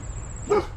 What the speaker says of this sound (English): The doggy wants to bark at me.